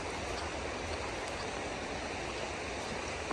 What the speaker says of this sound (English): It's like this good flowing creek we're walking by.